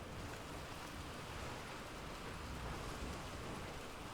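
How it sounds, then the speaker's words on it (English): Heavy rain pours steadily in the Monster Hunter Wilds video game, a dense, even hiss of downpour that holds constant throughout with no other sounds. "The rain's really coming down."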